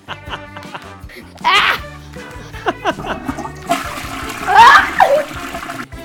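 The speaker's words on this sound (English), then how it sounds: "I flushed it on the toilet" A toilet flushes with a rushing, splashing gurgle that swells twice over a few seconds, mixed with background music and a voice in a game-challenge setting.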